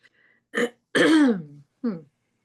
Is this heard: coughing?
yes